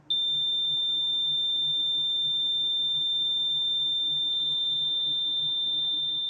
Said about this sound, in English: It does sound like Morse code.